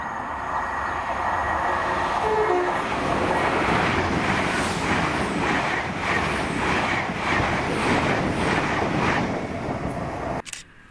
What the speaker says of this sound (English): Then this is 1W20, 2004 London North Eastern Railway service to Aberdeen from London King's Cross with 800